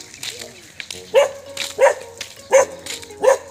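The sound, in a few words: dog barking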